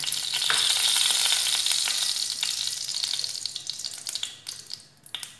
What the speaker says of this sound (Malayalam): നോൺ സ്റ്റിക്ക് പാത്രം അടുപ്പത്ത് വെച്ച് അതിൽ ഒരു 3 4 ടേബിൾ സ്പൂൺ എണ്ണ ഒഴിക്കണം